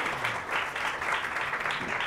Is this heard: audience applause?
yes